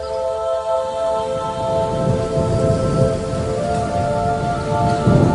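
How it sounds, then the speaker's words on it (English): A heavy downpour of rain driven by wind on a stormy night: a steady, dense wash of rain noise runs unbroken throughout, with a low sustained drone beneath it. "We had a major downpour of rain and wind"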